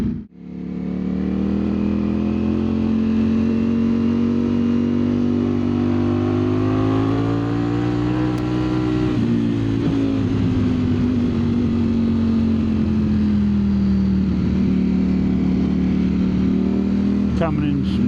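A 2025 Ducati Streetfighter V4S motorcycle runs steadily at speed with a loud, sustained engine drone and wind roar. The engine pitch rises and falls slightly with throttle changes throughout.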